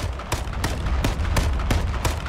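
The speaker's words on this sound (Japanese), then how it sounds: "謎の銃声が響いて" Sharp gunshots in the video game H1Z1 crack out at a steady pace, about seven or eight in quick succession, over a low rumbling background.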